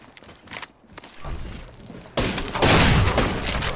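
Gunfire in the battle royale game Apex Legends: sporadic shots and thuds build into a loud, sustained burst of rapid fire in the second half.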